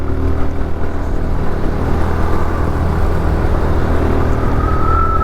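A motorbike climbs a slope on a solo ride near Chittorgarh, Rajasthan, its engine a steady, loud, close drone that holds throughout with no talk.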